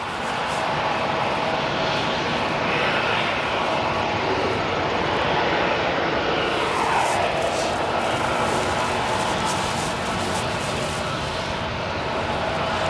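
Airplanes on a busy runway at O'Hare Airport, with a steady roar of aircraft engines that swells and shifts as planes taxi and move, loud and continuous throughout, with no talking.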